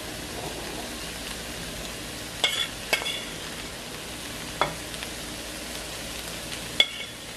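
Vegetables are stirred into a pan over Creole stew fish, a soft steady sizzle with a few sharp scrapes and clinks of the spoon against the pan.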